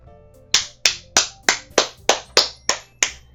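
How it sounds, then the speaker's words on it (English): A single pair of hands claps nine times at a steady, slow rhythm, crisp and close, over a faint background tone, in the video game Doki Doki Literature Club. "I'm the first to start applauding"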